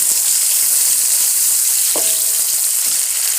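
Onions frying in hot oil over high heat for restaurant-style bhindi masala, a loud continuous sizzle with occasional stirring taps and a brief metallic utensil clink midway.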